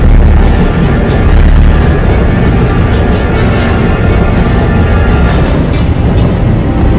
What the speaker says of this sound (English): number 1 probe fires a low-level magnetic ion burst to disrupt the ship's basic system